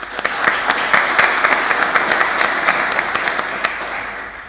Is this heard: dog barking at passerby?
no